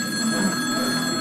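A telephone rings nearby with a loud, continuous electronic trill that holds steady for just over a second, with no voices.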